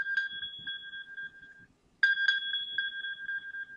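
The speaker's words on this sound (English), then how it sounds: "my iPhone is going to show that that request has been sent, and it's going to go ahead and ring" An iPhone ringtone plays as a bright repeating electronic melody, close and clear, in two bursts separated by a brief pause, with no voices.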